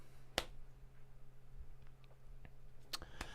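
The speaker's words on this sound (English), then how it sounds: "That was a pity clap." A single sharp clap sounds early, faint and isolated in a quiet room, followed by a few weaker taps.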